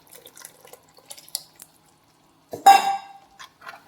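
Tamarind water squeezed out to the size of a small lime, poured into a dried fish curry: a short, loud splash and trickle of liquid mid-clip, with faint kitchen clinks before and after.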